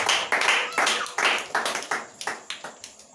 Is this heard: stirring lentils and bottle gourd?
no